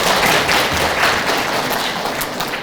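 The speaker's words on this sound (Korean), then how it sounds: "큰 박수 부탁드립니다." An audience in a convention hall at a university-admissions information session claps loudly, making a thick, continuous wash of many hands with no voices over it.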